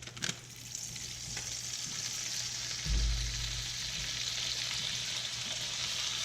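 Olive oil and half a stick of butter sizzle steadily in a saucepan, a soft continuous hiss with a brief low thump and clatter near the start and again midway, with no talk.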